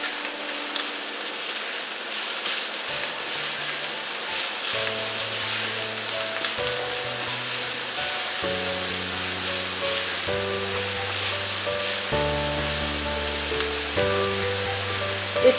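Chopped onion fried with a spoonful of garlic-ginger paste for potato curry hisses and crackles steadily in a hot pan, a dense continuous sizzle with background music notes playing over it and no talking.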